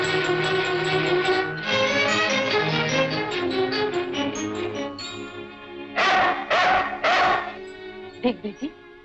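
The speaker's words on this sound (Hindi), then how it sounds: "देख बेटी, कुत्ता भौंक रहा है," A dog barks a few times in short, sharp bursts, close and loud, over a swelling film music score.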